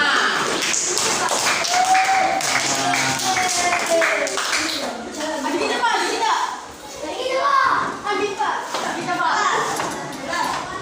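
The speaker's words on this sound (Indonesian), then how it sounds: "Tepuk tangan." A group of schoolchildren claps hands in repeated rounds, the patter of claps mixed with their chatter and voices throughout.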